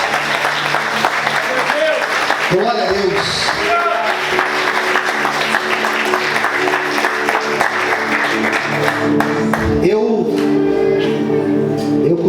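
A church congregation applauds strongly and continuously for about twelve seconds, a full and dense wash of clapping with a few voices calling out over it, including a brief spoken exclamation.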